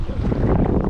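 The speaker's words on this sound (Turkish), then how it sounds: "acayip rüzgar var" Strong wind blusters across a microphone at a lakeshore during a June fishing trip, a brief, loud, continuous rush of low buffeting noise with no voices.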